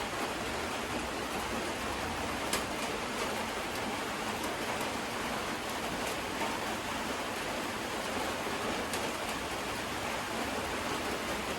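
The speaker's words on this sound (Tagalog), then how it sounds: "Ulan na po guys." Heavy rain pours during Typhoon Uwan as a dense, steady hiss that holds constant throughout, with no voices.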